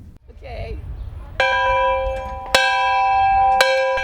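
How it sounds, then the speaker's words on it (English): The original school bell at an elementary school is struck three times to end the school year. Each strike is a loud metallic clang with a long ringing decay, spaced about a second apart, after a faint voice at the start. "rson capped off her 44 years at Walnut Grove by ringing the original school bell, signaling that school's out"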